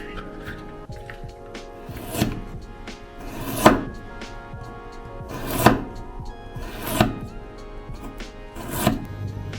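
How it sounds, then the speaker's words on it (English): A knife cuts through a block of pork belly on a board in a few heavy, spaced chops with soft squishy thunks between them, close by, while someone speaks over the cutting. "So cut it in half."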